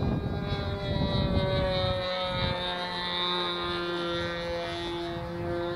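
A Sig Smith Miniplane model biplane flies at a model aircraft event in Hemet, California, its small engine holding a steady, buzzing drone with a slight pitch shift as it passes overhead at moderate distance.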